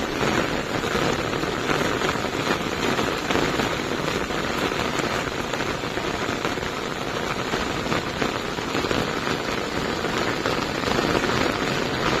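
Heavy rain pours down steadily for the whole stretch, a dense continuous hiss and patter on surfaces, loud and close with no pauses.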